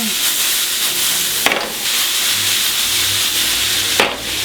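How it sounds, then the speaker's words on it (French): Onions and carrots sweating in a cooking pot for a beef curry, with a steady low sizzle and hiss throughout, broken by two brief sharper scrapes of a utensil turning them. "Dans la foulée, oignons, carottes, comme ça. On fait suer tranquillement."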